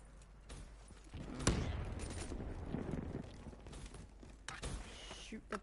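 Bursts of AK-47 fire ring out in the video game Call of Duty Black Ops 3, with a loud close volley and a later shorter burst over rumbling battle noise while a player talks.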